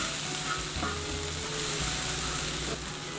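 Vegetables and tomatoes frying on a hot discada, a broad steady sizzle with faint scraping and low clatter underneath, close and continuous throughout.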